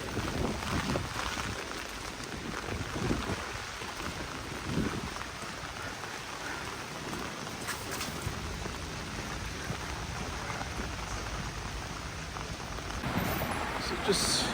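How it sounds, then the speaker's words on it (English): Steady rain falling on a rainy day in London, a constant dense hiss of drops hitting surfaces that continues evenly throughout, with brief voices faintly audible. "it's super rainy"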